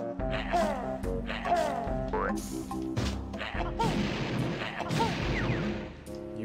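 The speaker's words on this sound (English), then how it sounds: "I just killed that one with a grenade egg" Grenade eggs burst in Banjo-Tooie, several booming video-game explosions in quick succession over busy game music and effects, loud and close.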